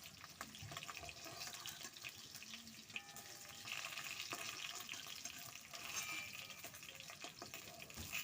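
Rui fish frying in oil gives a faint, steady crackle and hiss, mixed with watery splashing and the clink of stirring throughout.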